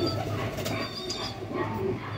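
A pigeon coos softly a few times at close range over a steady low background hum, with no talking.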